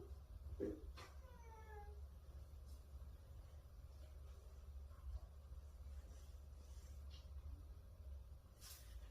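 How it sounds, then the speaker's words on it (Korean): A cat lets out a short meow, followed by a rising, wavering call, heard close against a low steady background hum. "대답하는 고양이"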